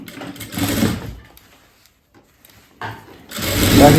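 Sewing machine stitching an edge band onto a blouse, two loud bursts of rapid mechanical whirring separated by a short quiet pause.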